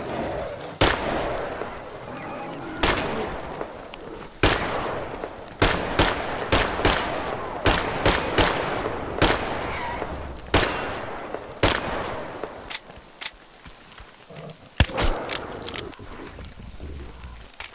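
Repeated bursts of gunfire in Metro Exodus, a string of loud sharp shots with short gaps between them, close and dominant over quiet ambience as two enemies are brought down.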